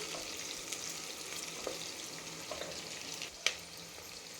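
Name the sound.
onion frying in a pan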